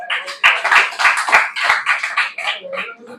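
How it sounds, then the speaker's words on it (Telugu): An audience in a church teaching session claps in a burst of sharp, loud, uneven claps lasting a few seconds, close and unaccompanied before fading. "సరిపోయిందన్న వాళ్ళు గట్టిగా చప్పట్లు కొట్టండి"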